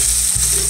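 Garlic frying in a pan is stirred with a short scrape through a constant close sizzle, with no talking.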